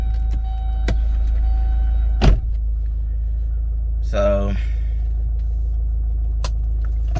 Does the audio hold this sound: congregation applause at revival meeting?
no